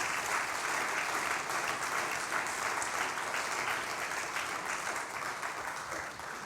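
A church congregation claps for the Lord in sustained, even applause, many hands at once, filling the space at a steady level and fading slightly toward the end, with no speech on top.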